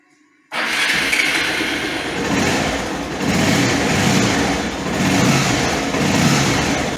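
A Bajaj Pulsar 200 DTSi motorcycle engine fires up after a moment of silence and settles into a steady, loud running idle with slight surges in revs.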